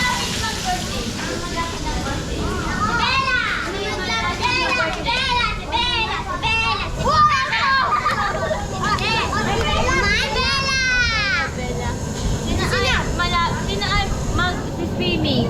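Children playing and shouting at a catered gathering in Apalit, Pampanga, their voices overlapping steadily and fairly close, with squeals and chatter from kids around a swimming area while adults talk among them.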